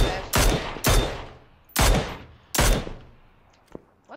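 Gunfire in the PUBG battle royale video game: four loud, booming shots at irregular intervals, each with a long decaying tail, then faint distant pops. No voices are heard.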